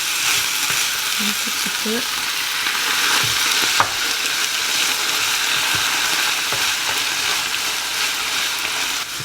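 A vegetarian hachis sizzles steadily in a pan after a little juice is poured in, with a constant frying hiss and occasional stirring scrapes. A voice speaks briefly near the start.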